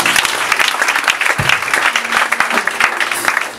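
A church congregation applauds loudly and steadily during worship, dense continuous clapping with faint crowd murmur underneath, no voices standing out.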